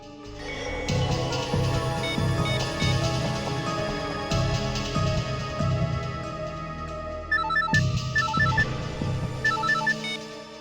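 A mobile phone switching on plays a bright electronic jingle for several seconds, a melodic startup tune with layered tones and short chiming notes, steady and moderately loud.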